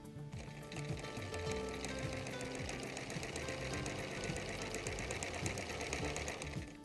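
A sewing machine stitches a quarter-inch fabric seam, a fast steady mechanical chatter of needle strokes running continuously at close range with no voices over it.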